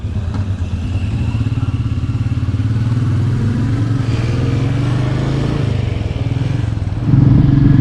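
A Royal Enfield Meteor 350 motorcycle being ridden, its steady single-cylinder thump loud and close throughout, rising in pitch near the end as the engine revs up.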